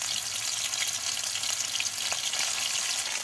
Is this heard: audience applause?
no